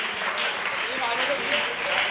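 Applause from a community gathering of the Guna Jain society, a steady wash of many hands clapping that runs the whole way through, with a voice faintly audible underneath.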